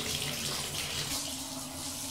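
Shower water running steadily in a home bathroom, a continuous broadband hiss of spray with a low hum underneath, moderately quiet and with no talking.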